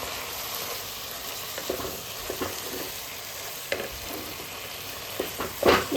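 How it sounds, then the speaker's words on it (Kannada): Fried okra is stirred into masala frying in a pan, giving a steady close sizzle broken by several scraping stirs and a louder scrape at the end. No one speaks. "ಆ ಬೆಂಡೆಕಾಯಿನ ಇದಕ್ಕೆ ಹಾಕಿ ಚೆನ್ನಾಗಿ ಮಿಕ್ಸ್ ಮಾಡ್ಕೊಳ್ಳಿ"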